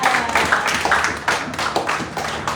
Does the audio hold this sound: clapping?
yes